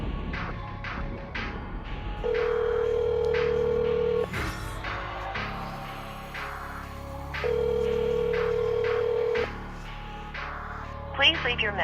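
A phone call rings out on a cell phone, with long steady ring tones repeating at even intervals before reaching voicemail, under background chatter and clatter.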